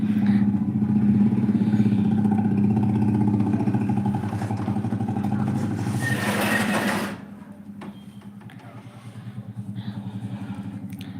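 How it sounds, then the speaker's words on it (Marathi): Engine drone fills most of the clip, a loud passing vehicle swelling and fading, then quieter motor hum continues in the background. "गाड्यांचा खूप आवाज आहे डिस्टर्बन्स झालेला आहे"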